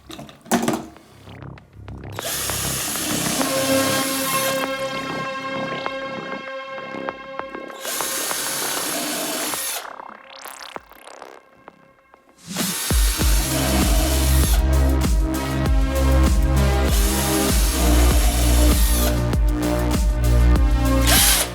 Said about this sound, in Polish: I te małe punkciki zaraz będę rozwiercał.